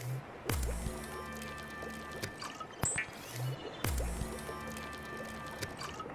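Water being made in the Subnautica video game, liquid squishes and drips arriving in two short bursts with soft interface tones and a quiet pause between them.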